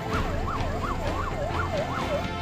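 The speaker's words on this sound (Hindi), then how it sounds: "सायरन बजाती ये एम्बुलेंस जब एक साथ मुसावनी की सड़कों पर दौड़ने लगी" Several ambulances speed along the roads of Musabani with sirens wailing, a loud, rising-and-falling two-tone cycle repeating steadily over low road rumble, with no talking.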